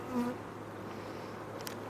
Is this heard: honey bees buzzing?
yes